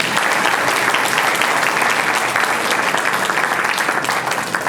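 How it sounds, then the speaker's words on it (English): Audience at a congressional candidate forum applauds, a dense continuous clapping from a roomful of people that holds steady and loud throughout without letting up. "A round of applause for all the candidates tonight"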